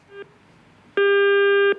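A telephone busy tone after a disconnected call: a short beep, a pause, then a loud steady tone held for most of a second, clear and close with no talk.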